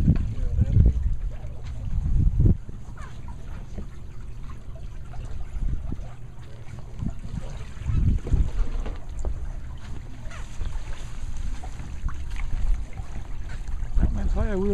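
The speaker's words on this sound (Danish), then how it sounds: "Men så er jeg ude at sejle på Jespers Lagoon her." A sailboat moving across Jesper's Lagoon, with steady wind and water rushing and trickling along the hull, continuous and fairly close, while someone talks over it.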